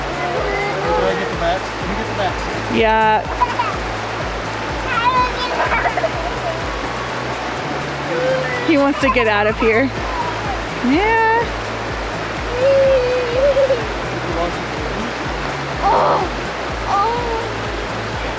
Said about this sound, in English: so you gotta bathe in a freezing cold stream